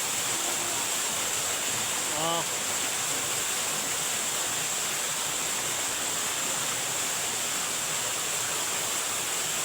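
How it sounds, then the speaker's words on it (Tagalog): Steady broadband rush of a small waterfall in Lanao del Norte, a constant close roar of falling water with a brief bird-like chirp partway through. "Waterfalls sa Maguindara."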